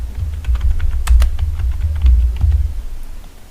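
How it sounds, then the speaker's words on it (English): Close, loud clicking of a computer keyboard typing a short phrase, with a quick irregular run of keystrokes over about three seconds and no talking. "So I'm going to type hello world."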